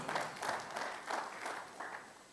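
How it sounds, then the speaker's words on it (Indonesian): Long applause from a church congregation during a Sunday service, steady rolling clapping in soft swells, somewhat distant and moderately quiet, with no voices over it. "Tepuk tangan yang panjang."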